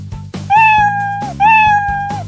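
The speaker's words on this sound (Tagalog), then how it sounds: "Akala ko mga tambay kayo na pinagtitripan ang pusa kong si Brownshie" Two drawn-out meows from a cartoon cat in a Filipino animated comedy, loud and close, each a wavering tone that bends downward at the end, over a low background music bed.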